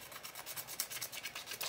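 Sandpaper rubs a copper part of a budget winder fishing reel in quick repeated rasping strokes, a faint, fairly even scratching rhythm heard up close with no talk.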